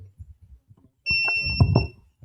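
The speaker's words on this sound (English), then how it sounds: "He already setting the alarm off already." An alarm sounds in a room during a scripture study gathering: a steady, piercing high-pitched electronic tone for about a second, while a voice speaks beneath it, preceded by quieter mumbled speech.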